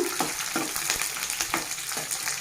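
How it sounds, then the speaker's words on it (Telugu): Onions frying in oil with fenugreek, cumin, mustard seeds, green and dried chillies, a steady close sizzle broken by rhythmic scraping stir strokes, with no talk. "కొంచెం ఫ్రై అవ్వనివ్వాలి."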